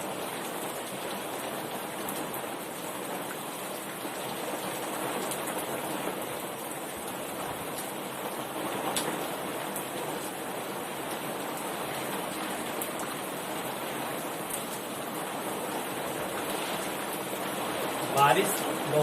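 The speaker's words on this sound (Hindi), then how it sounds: "बारिश बहुत अधिक होने लगी" Heavy rain pours down in a steady, dense hiss that runs on evenly without pause, with faint indoor sounds beneath it.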